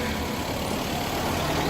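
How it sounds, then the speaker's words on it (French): A car moves forward with a low engine hum and road noise, steady and moderately loud with no voices. "Et là, Chouchou avance la voiture."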